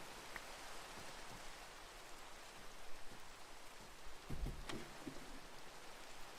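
Steady rain falls in the video game Minecraft, a soft, even hiss of drops that runs throughout at low volume, with a few faint thuds and clicks near the end.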